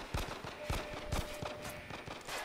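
Gunfire in the survival horror video game The Evil Within 2, a series of loud, sharp shots fired at an uneven pace, repeating several times against a steady game background.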